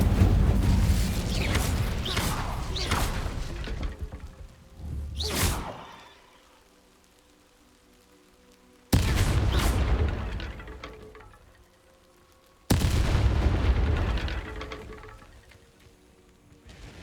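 In the video game Hogwarts Legacy, the Incendio fire spell is cast repeatedly: loud fiery whooshes and bursts that flare and fade, with three separate blasts each dying away into near silence.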